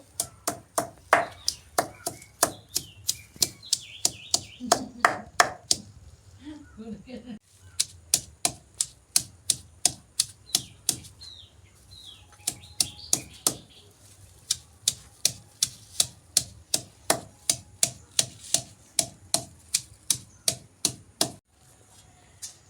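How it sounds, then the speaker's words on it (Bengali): Hair pack ingredients are ground by hand on a stone grinding slab, making sharp, close knocks in a fast, even rhythm, broken by a few short pauses. "কিন্তু আমি এখানে শিলে বাটবো"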